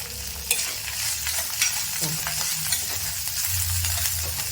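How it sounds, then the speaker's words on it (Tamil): Drumstick leaves sautéing with salt in a hot pan, a steady close sizzle broken by scraping stirs, with no talking. "கீரையிலே உப்பு போட்டு நல்லா வந்து வதக்கிடுங்க"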